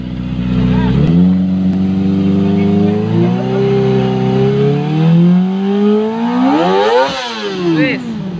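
A Kawasaki ZX25R motorcycle with a Falcon exhaust revs up loud and close, its four-cylinder whine climbing steadily across several seconds before a sharp peak and a drop back toward idle.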